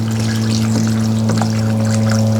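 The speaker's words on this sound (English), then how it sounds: "I'm putting it down here on the ground so the water can just evaporate into the" Water poured out of a container onto mulch-covered ground in a vegetable garden, a steady continuous splashing pour lasting throughout, with strong low steady hum underneath.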